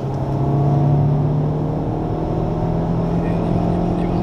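A Honda Civic Type R pulling hard on the Le Mans circuit, heard from inside as a sustained engine drone with a steady rising pitch, loud and close.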